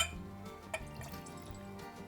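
Nevis Dew blended Scotch whisky from a cheap bottle with no cork is poured into a glass, giving a brief faint liquid trickle with a small drip and clink, quiet and close.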